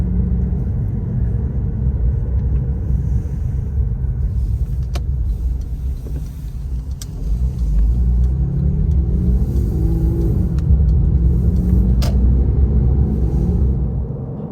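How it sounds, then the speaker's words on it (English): A car drives along a dark back road at night, its engine a steady low rumble with road and tyre noise filling the cabin, rising slightly as it accelerates, with a few brief clicks along the way. "So this is just some back road driving."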